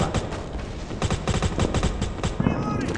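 Rapid bursts of automatic gunfire in a World War 2 video game, loud and close, firing in quick repeated volleys.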